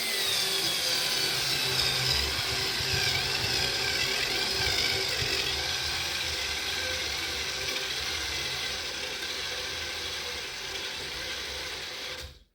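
A Xiaomi Mijia cordless rechargeable screwdriver drives a 6 cm screw into a block of wood, its motor whirring and grinding steadily at close range for about twelve seconds before stopping.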